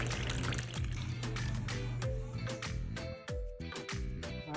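Homemade pineapple, cucumber and ginger juice pours into a glass in a soft, continuous trickle with a few gurgles and splashes, heard close and quietly in a kitchen.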